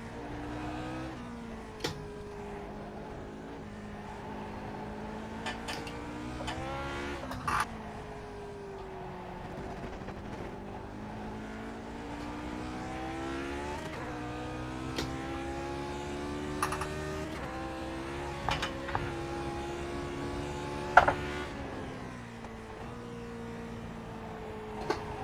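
A Lotus 49 race car engine in the iRacing sim at the Nürburgring holds a steady mid-level drone that rises and falls with gear changes over a long stretch, with occasional keyboard clicks.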